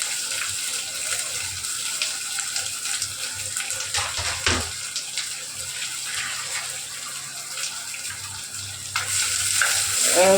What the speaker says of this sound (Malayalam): അപ്പോൾ സവോള ഇടുന്നു